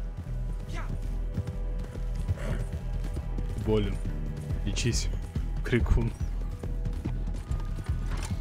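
Horse hooves in the video game Red Dead Online clop along in a steady rhythm beneath a voice and other game sounds.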